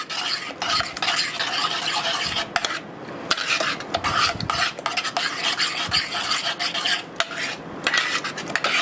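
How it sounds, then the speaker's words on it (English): A spoon stirs thick pineapple fudge mixture in a pot, giving steady rhythmic scraping and rasping strokes with occasional clinks against the metal, close up and without speech. "And I'm going to stir that in real good."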